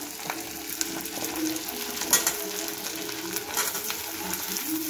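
Steady sizzling of onion and capsicum frying lightly in a pan for chilli chicken, with occasional clicks and scrapes of stirring over the hiss.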